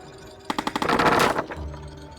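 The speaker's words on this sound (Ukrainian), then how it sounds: "Кулемет спереду, атакую спереду." Front-mounted machine gun firing in the video game Zombie Rollerz, a rapid burst of about seven sharp shots that blurs into a dense roar, then trails off with a low rumble.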